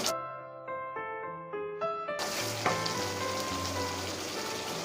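Spice masala for restaurant-style matar paneer frying in a pan, a dense steady sizzle that takes over after a couple of seconds of sustained musical tones and carries on loudly to the end.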